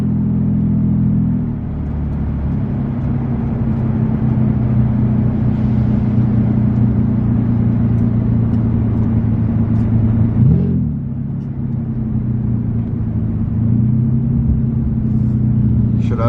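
A Nissan 350Z engine drones steadily from inside the car while driving, a low sustained rumble with a brief revving swell near the middle, loud and continuous throughout.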